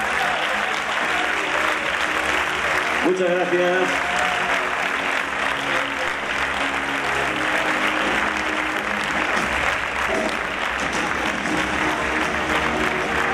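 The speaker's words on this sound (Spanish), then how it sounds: "Y ahora sí, les despedimos con un fuerte aplauso." A festival audience claps loudly and steadily in farewell to the elected queens and maids of honour, with a voice briefly speaking thanks over the dense applause.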